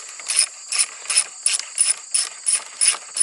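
An 8mm socket ratchet works a front brake caliper pin loose on a Honda CRF250L/CRF300L dual sport motorcycle, clicking in eight quick, evenly spaced bursts of sharp metallic ratcheting, close and clear with no talk.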